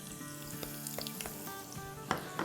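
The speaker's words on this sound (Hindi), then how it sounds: "थोड़ा सा सौटे करेंगे।" Mutton pulao base sizzling steadily in a pan with red chilli powder, Kashmiri chilli and salt, a continuous close fry with soft stirring scrapes and a couple of sharper spatula knocks near the end.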